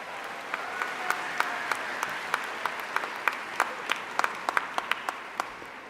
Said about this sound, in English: Yes, please, a round of applause.